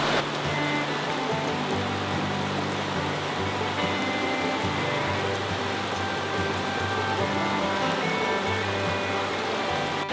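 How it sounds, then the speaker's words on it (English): Steady water rushing through a stream in Cataloochee Valley, Great Smoky Mountains National Park, a continuous broadband wash with no pauses, close and fairly loud throughout. "Wow, this water is so soothing."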